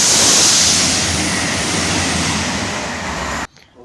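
A Voyager train rushes past at speed at Lea Hall, making a loud, close, steady roar of wheels and air that fades slightly before cutting off abruptly.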